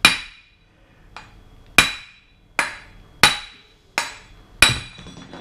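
Sharp metallic hammer strikes ring out about six times at uneven intervals, knocking a front wheel bearing carrier off the hub of a 2013 Hyundai i10 1.1L, close and clear with short decays.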